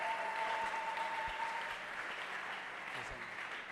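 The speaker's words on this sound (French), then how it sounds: "Acclamons pour le roi des rois." A church congregation applauding, a sustained wash of clapping from many hands that fades slightly toward the end, with a voice under it.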